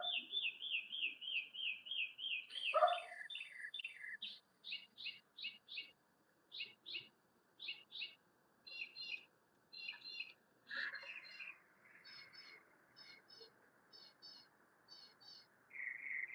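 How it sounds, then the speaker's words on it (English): Birds chirp and tweet in a garden, with a long rapid trill followed by many short, evenly spaced bright call bursts, fairly close and clear against a quiet background. "Yeah, the bird sounds very nice."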